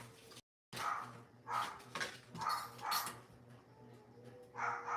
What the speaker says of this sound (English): I'm dog sitting. So if y'all hear some barking,